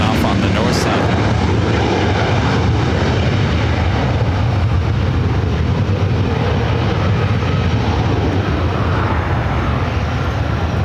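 A British Airways jet takes off from the north side of LAX, its engines a loud, continuous roar that fills the air without a break.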